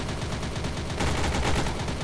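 Fireworks show inside the Roblox game Lone Survival, a dense, continuous crackling barrage of rapid pops and bursts that swells louder halfway through, with no talking.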